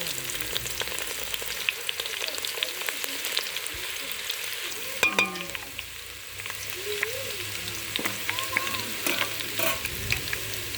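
A large onion fries in a pan for goat curry, with cumin seeds already in the oil, giving a steady close sizzle under scattered clinks and scraping of a stirring spoon, and no talking.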